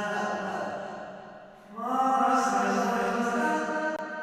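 A vocal track played in reverse through reverb and delay swells with smeared, backward-sounding sustained tones that rise into a fuller wash midway, with no plain speech.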